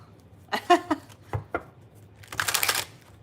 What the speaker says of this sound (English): Let's see how it responds to a shuffle.